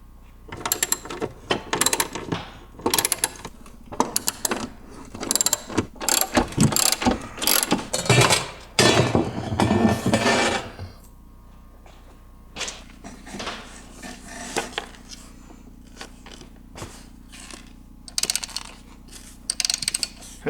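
Bolts come off a metal brace on an Onan RV generator with bursts of ratchet clicking and metallic clatter, dense during the first half and then sparser. The clicks are close and loud against a quiet low hum, with no voices.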